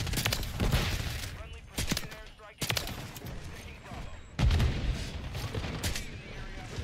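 Gunfire from Modern Warfare 3 bursts in dense, loud volleys and single shots, cutting out briefly between barrages, while a player talks over the shooting.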